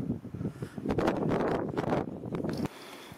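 Cold wind gusts across a hillside trail on a Luberon hike after snow at altitude, a steady broad rushing buffet against the microphone that drops away abruptly near the end.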